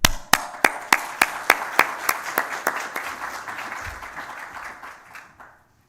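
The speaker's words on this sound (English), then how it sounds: "Should keep a generous applause for the people getting awards this evening." Audience applause at a university faculty awards ceremony: a steady wash of clapping from a crowded hall with a few sharp, close claps standing out in a regular rhythm, fading out after about five seconds.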